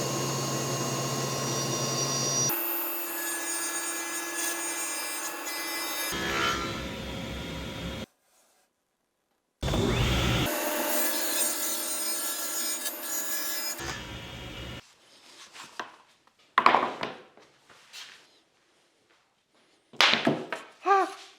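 Strips of 3/4 inch and 1/4 inch MDF are cut for a router jig, several separate loud bursts of saw noise with abrupt starts and stops, broken by silent gaps and later followed by quieter scraping and knocking handling sounds.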